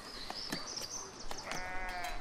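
Sheep bleat in the village-building game Foundation, a few wavering calls rising over a low farmyard ambience, fairly close and clear, with no voices over them.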